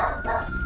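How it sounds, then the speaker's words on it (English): A short dog howl or bark from puppies in the Darkestville Castle video game, one brief tonal cry that is fairly loud and close, with no talking over it. "Puppies are barking."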